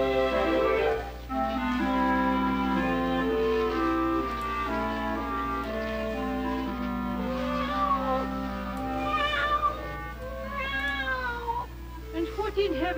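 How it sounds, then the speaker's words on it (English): A small kitten meows repeatedly in a comedy riff setting, its cries riding over a steady musical score with some voices mixed in throughout. "And if it ain't a wee bit of a cat."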